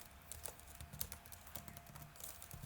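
Quick clicking of a computer keyboard being typed on while working in a ROS robotics programming session, steady irregular keystrokes close up with no talking.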